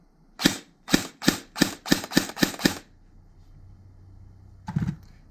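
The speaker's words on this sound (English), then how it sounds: "Now for the sound comparison, this is a stock Lancer." Eight sharp, evenly spaced snaps from an Elite Force Tavor-21 airsoft rifle with a stock Lancer ring out close by, followed by a short pause and one last cluster of shots.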